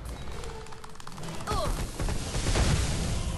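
Fire magic attack from South Park: The Stick of Truth video game, a crackling, rushing burst of flame and impact effects that swells loud after a softer start.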